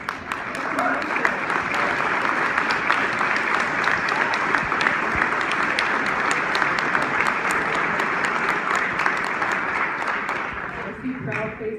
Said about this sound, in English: Please stand and acknowledge your loved one through your applause.